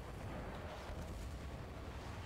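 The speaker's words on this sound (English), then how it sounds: "Mortar strikes over here." Video game mortar strikes rumble as a continuous, dense wash of distant booms and crackling blasts, steady and moderately loud throughout.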